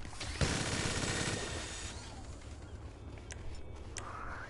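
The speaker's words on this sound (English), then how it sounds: "Do you hear a gunshot?" Gunfire from the video game GTA 5 Online, a burst of rapid shots opening loudly then rattling on as dense, sustained firing that gradually thins, with scattered sharper cracks near the end.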